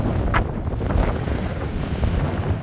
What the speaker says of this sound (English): back into a headwind